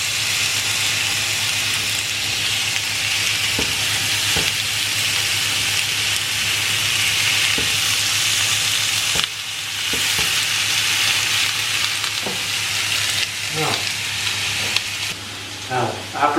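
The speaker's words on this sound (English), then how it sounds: "a nice sizzle and sear when it hits the pan" Fillet steak sears in a hot pan with a loud, continuous sizzle heard close up, broken by a few clicks and light knocks; a voice speaks over it.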